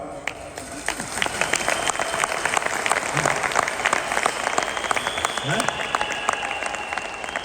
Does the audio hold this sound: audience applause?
yes